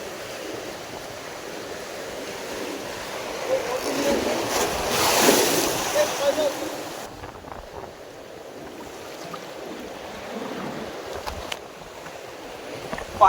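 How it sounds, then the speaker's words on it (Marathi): Sea waves crash on the shore during traditional rod fishing: a steady surf wash swells into one big breaking wave near the middle, then settles back to a softer rush, with no voices. "चांगलीच लाट आली"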